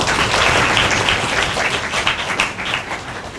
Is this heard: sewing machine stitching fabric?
no